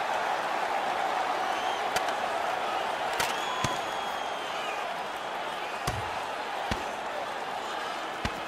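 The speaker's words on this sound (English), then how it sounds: "You can hear the crowd. They knew who won that fight." Arena crowd in the NHL 15 hockey game roaring steadily after a goalie fight, a dense continuous wash of noise punctuated by a few sharp thuds and slams, with commentary voices over it.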